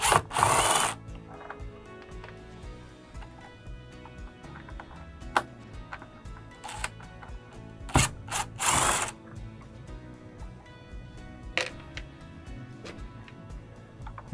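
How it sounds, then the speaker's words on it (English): A cordless drill backs screws out of the outer shroud of a Coleman-Mach RV air conditioner, sounding in several short whirring bursts with pauses and light clicks and rattles between them. "we're going to use our cordless drill to remove the outer shroud"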